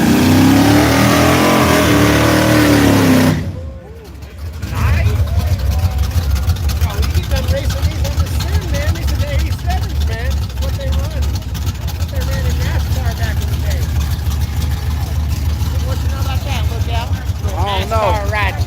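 A street race car named Miss Jody revs loudly with a high wailing note, then drops to a lower rough idling drone that pulses steadily for a long stretch, close and strong.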